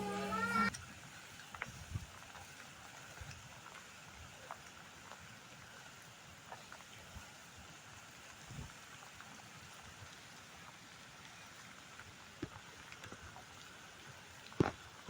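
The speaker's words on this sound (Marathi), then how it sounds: "पाऊस अजिबात थांबत नाही आहे" Steady, soft rain falls as a continuous hiss with occasional drips and taps, fairly distant and even throughout.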